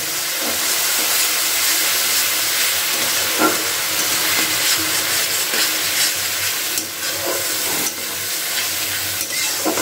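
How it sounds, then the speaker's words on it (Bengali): Garlic, onion and green chilli paste fries in a pan with a dense, continuous sizzle and hiss, with a few soft stirring scrapes and no talk. "এবার রসুন, পেঁয়াজ, কাঁচা লঙ্কার পেস্ট এটা দিয়ে দিলাম। দিয়ে খুব ভালো করে কিন্তু এটাকে ভাজা ভাজা করে নিতে হবে।"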